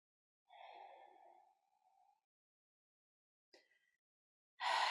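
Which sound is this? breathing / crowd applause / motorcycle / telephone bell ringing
breathing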